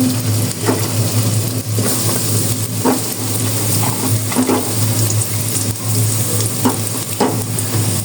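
Chopped onion and garlic fry in hot oil for a raw jackfruit and egg curry, giving a steady, loud sizzle with occasional clicks of stirring throughout.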